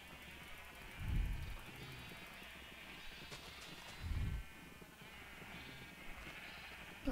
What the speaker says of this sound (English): I'm gonna spawn some more sheep